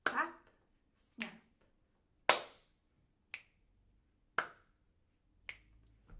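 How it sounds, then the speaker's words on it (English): Alternating hand claps and finger snaps in a simple clap-snap pattern, six sharp isolated hits spaced about a second apart, close and quiet, with short silences between them. "I'm going to clap my hands together and then snap my fingers"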